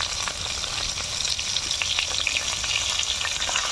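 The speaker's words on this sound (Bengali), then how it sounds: "আমি পটলগুলোকে লাল লাল করে ভেজে নেব।" Pointed gourd pieces frying in hot oil, a continuous bright sizzle and crackle with occasional stirring clatter, close and steady throughout.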